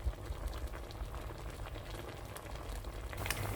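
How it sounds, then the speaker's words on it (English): Rabbit simmering with carrots, onions and mushrooms in a dilute chicken stock, giving a soft, steady bubbling hiss throughout, faint and close with no talking. "I've literally got a very dilute chicken stock, sort of boiling the rabbit with my carrots, onions, and now mushrooms"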